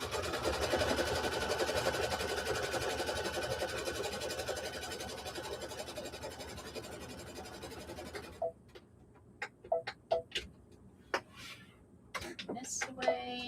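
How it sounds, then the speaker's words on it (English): A sewing machine running a continuous straight stitch on a quilt block, with a steady whir for about eight seconds that stops abruptly, followed by scattered clicks and light handling sounds. "We're on the straight stitch, so we're going to stitch all the way around."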